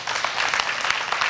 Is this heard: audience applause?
yes